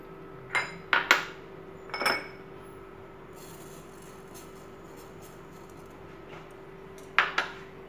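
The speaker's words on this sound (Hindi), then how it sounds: "इस तरह से इसमें सभी मसालों को ड्राई रोस्ट कर लेते हैं।" Spices are dry roasted in a pan, with scattered metallic clinks and scrapes from a spoon against the pan in short bursts separated by quiet stretches. A low steady hum runs underneath, and no voices are heard.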